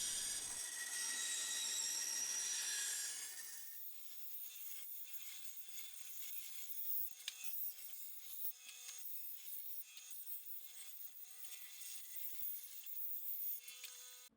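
A saw blade lubricated with pink soap cuts through an aluminium mudguard plate on a Honda NC750X, opening with a loud bright grinding rush, then settling into steady close rasping strokes.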